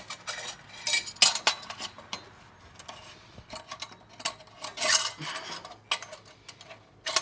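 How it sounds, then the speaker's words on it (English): Metal clanks, scrapes and light clinks as a V-band clamp is opened and fitted around exhaust pipe connections during a Subaru WRX ETS J-pipe install, a series of close, irregular handling sounds with no talking. "We'll get our clamp going here."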